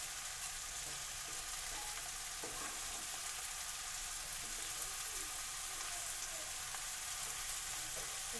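Prawns added to a pan of cooked-down spice mixture in a Bengali dish with ash gourd, frying with an even, continuous low sizzle and a few faint clicks, no voices.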